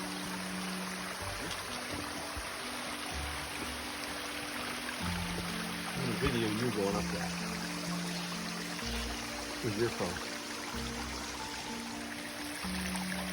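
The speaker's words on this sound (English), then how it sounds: "nice waterfall" A waterfall beside the Appalachian Trail in New Hampshire's White Mountains rushes as a soft, steady broadband hiss throughout, with faint tonal hums and brief voices in the background.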